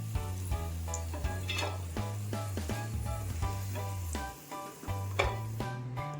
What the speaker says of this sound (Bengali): একই ঘিতে ফোড়ন দিচ্ছি চারটে এলাচ ফাটিয়ে নিয়েছি দারচিনি পাঁচ ছটা লবঙ্গ দিয়ে দিচ্ছি